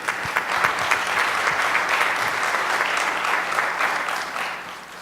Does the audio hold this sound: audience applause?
yes